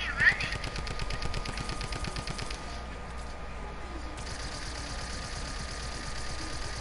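Rapid machine-gun-style gunfire from a video game, likely Fortnite, rattling in a fast, even stream for the first few seconds, then thinning out over a low engine-like hum.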